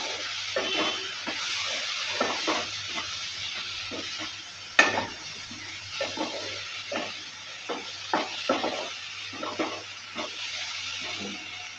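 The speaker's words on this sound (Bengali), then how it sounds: "সব কিছু দেওয়ার পর ভালো করে আবারও নেড়ে চেড়ে দিচ্ছি।" A spoon scrapes and stirs spices with coriander powder in a hot pan for an ol kochur and soybean curry, steady rhythmic scraping over a low sizzle, close and alone.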